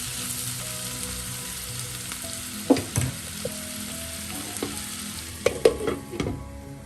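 Snake gourd stir fry sizzling in a pan with a steady frying hiss, broken by several sharp clinks and scrapes of a spoon stirring, close and fairly loud, with no talking.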